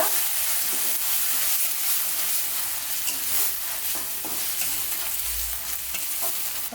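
Ginger garlic paste sautéing in oil for a chicken gravy makes a loud, continuous sizzle and crackle, with steady stirring scrapes and no voices.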